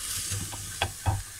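Chopped vegetables sauté in a little olive oil for minestrone, giving a steady soft sizzle with a few stirring scrapes and clacks from a utensil up close, no talking.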